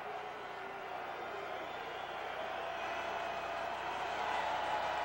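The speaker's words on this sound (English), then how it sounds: "Crowd at the Orange Bowl, still into it, urging the defense on" A large football crowd at the Orange Bowl in a 2001 Rutgers vs Miami game, a sustained roar of voices that builds gradually louder as the defense is urged on.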